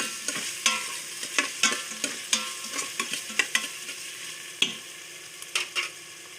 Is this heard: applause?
no